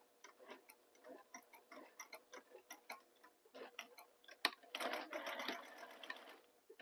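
A sewing machine stitches a bag seam in short ticking bursts, then runs in a faster continuous whir near the end, close and fairly quiet.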